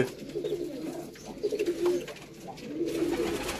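Sherdil breed pigeons coo in a loft, soft repeated throaty calls overlapping at close range with some faint background noise.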